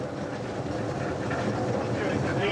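A 0-4-0 steam locomotive built by Porter in 1913 pulling a train: a steady low rumble of rolling stock, continuous and moderately loud with no clear beats.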